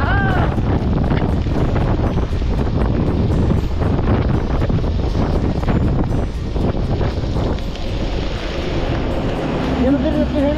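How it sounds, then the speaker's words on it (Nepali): Heavy rain pours down during a long road ride, a loud, steady, dense roar that fills the whole stretch without pause, mixed with gusty wind buffeting. "पानी त एकदमै ठुलो परेको छ"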